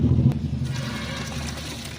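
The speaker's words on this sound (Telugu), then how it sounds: "ఇప్పుడు చింతపండు జ్యూస్ వేసుకోండి." Tamarind juice from a large batch pours into a cooking pot, a brief close gush of liquid with a splashing, flushing quality that holds steady for a couple of seconds.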